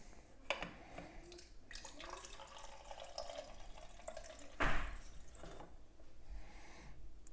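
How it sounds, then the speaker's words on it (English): Beer poured into small tins for beer can chicken, a faint trickle and splash of liquid with a brief louder gush midway, heard close and alone in a quiet room. "the first step today is just to get our beer into our tins"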